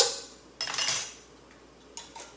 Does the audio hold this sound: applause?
no